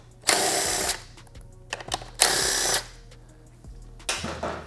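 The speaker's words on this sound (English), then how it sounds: "We'll use a 10mm socket for the middle screws, followed by an 8mm socket for the lateral screws" Power tool with sockets driving out the screws of the tray on an Aprilia RS 660: three separate whirring bursts, each about half a second long, with small clicks and rattles of parts and handling between them, recorded close by.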